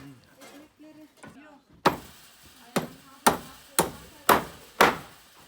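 A nail is being driven in with six loud, sharp hammer blows spaced about half a second to a second apart, following a stretch where voices talk.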